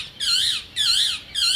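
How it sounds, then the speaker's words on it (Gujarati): A parrot perched overhead gives three loud, harsh screeching calls in a steady, evenly spaced rhythm, each lasting about half a second, over faint background noise. "ઉપર એક પોપટ પણ બેઠો છે"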